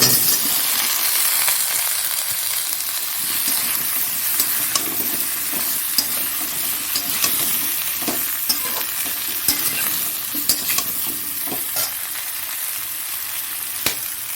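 Onion, tomato, potato and vegetable stems fry in a pan, giving a steady close sizzle broken by frequent stirring scrapes and light clinks of the spoon against the metal, with no talking.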